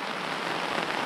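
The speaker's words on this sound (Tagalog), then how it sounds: "Nandiyan na naman ang ulan." Steady rain hisses down over a newly opened car-camping campsite in Tanay, Rizal, a dense, even patter with no voices.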